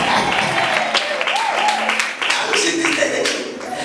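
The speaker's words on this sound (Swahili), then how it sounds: "Yesu makofi mazuri" A church congregation at an Easter Saturday service claps loudly and continuously, a dense close wash of applause with a voice rising over it.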